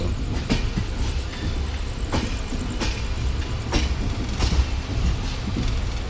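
A Konkan Railway train rolls steadily along the tracks toward Thane, with rhythmic clicks from the wheels over rail joints cutting through a constant low rumble.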